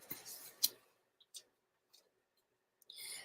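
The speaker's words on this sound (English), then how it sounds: "I'm going to do some trimming on this" Scissors trim in a quiet room, making a few soft, isolated snips and clicks spaced out between silences, preceded and followed by faint rustling.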